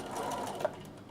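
A sewing machine stitches briefly and faintly, a soft short whir with a tiny click near the end, heard alone.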